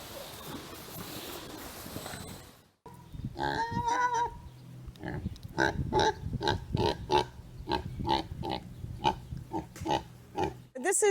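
Pot-bellied pig at a farm sanctuary grunting in a rapid series of short, close snorts and oinks, preceded by a brief unrelated sound and rustling.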